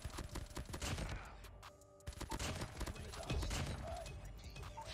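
Dense automatic gunfire from the mobile video game Call of Duty Mobile rattles in quick volleys, pausing briefly before resuming, fairly quiet overall.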